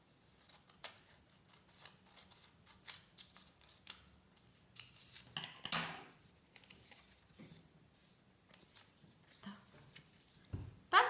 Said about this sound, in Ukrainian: Далі ножицями треба розрізати по ній круг.